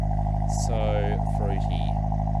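A Daihatsu Move SR XX turbo kei car with a manual gearbox and front-wheel drive runs with a steady, buzzing engine note close by, while someone talks over it.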